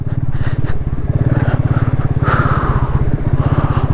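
Motorbike on a poor, slippery mountain road between Manali and Mandi, its engine thumping in a steady fast pulse close to the microphone, loud and continuous with slight revving.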